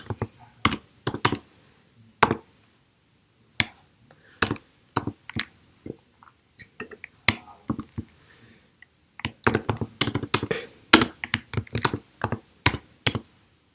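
Code is typed on a computer keyboard, close and crisp, with irregular bursts of key clicks separated by short pauses and no talk.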